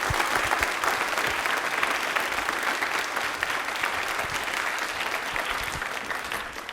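A studio audience at a general knowledge quiz show gives sustained, dense applause throughout, loud and steady, gradually easing off toward the end.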